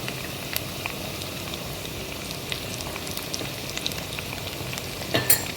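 Ginger and turmeric frying in oil for a fish curry give a steady close sizzle with scattered crackles and a few spatula clinks near the end, and no one speaks.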